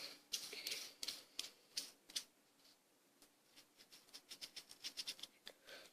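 Bearings of a fidget spinner grind and rattle while it spins, heard as quiet, irregular bursts of scratchy clicking that rise and fade close by, with no talk.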